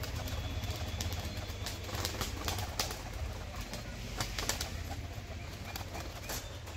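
Pigeons being shown for sale, soft cooing and repeated bursts of wing flapping over a constant low hum, moderately close and fairly quiet.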